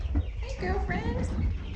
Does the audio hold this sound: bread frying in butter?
no